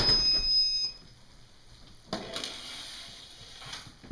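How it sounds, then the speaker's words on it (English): A kitchen timer sounds for a Chicago-style deep-dish pizza finishing in a home oven, a short, faint electronic beep at the start followed by quiet kitchen room noise. "20 minutes, pizza's coming out of the oven. There's my alarm."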